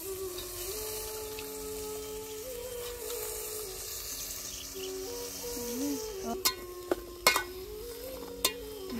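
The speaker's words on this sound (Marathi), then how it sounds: "फोडणी देताच चूल कोसळली आणि खूप वाजली फोडणी" Spice tempering hitting hot oil on a clay wood-fired stove in an outdoor farm kitchen: a steady hiss of frying, then a few loud, sharp crackles and pops near the end.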